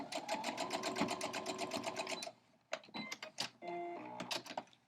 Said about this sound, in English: even though it's curved, I'm just going to sew a straight line, straight one corner to the other